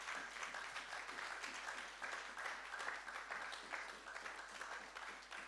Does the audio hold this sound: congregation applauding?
yes